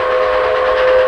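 A sharp, steady train whistle blows loud and close in one brief unbroken tone, set in a comedy skit with no talk over it.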